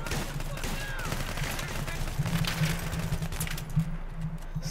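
Pistol gunfire in the video game Battlefield 3: a run of sharp, rapid shots cracking over continuous game noise and a low hum, with other gunfire in the distance.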